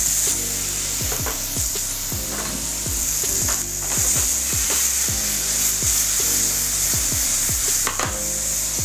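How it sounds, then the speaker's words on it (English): Peppers, onions and garlic sizzle in hot shimmering oil in a sauté pan, a steady loud frying hiss broken by repeated scraping and stirring strokes from a utensil at an even rhythm. "now that the oil has a nice shimmer to it and you can tell that it's nice and hot, we can add the peppers,"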